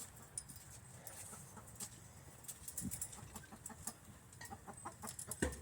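Chickens cluck softly nearby at a home flock's feeding time, scattered short clucks and rustles over a faint steady background.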